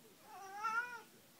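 A single cat meows once, a drawn-out, close and fairly quiet call with no voices around it.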